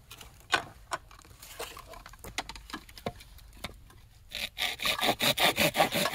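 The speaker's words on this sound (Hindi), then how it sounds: "आरी से काट देते हैं इन्हें।" Hand saw cutting through thick wood at a rainforest campsite, close rasping strokes that start slow and uneven, then speed up into a loud, steady back-and-forth rhythm.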